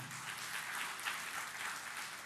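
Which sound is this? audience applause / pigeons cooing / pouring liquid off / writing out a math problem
audience applause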